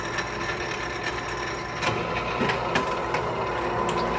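A Pittsburgh seam-rolling machine forming a lock seam in sheet metal, a steady close mechanical whir and rattle with metallic clicks and scrapes building slightly toward the end, no speech.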